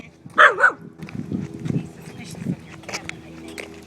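A dog meeting a stranger while out on a walk gives a couple of sharp barks close by, then quieter whimpers and yips as a person speaks nearby and footsteps shuffle.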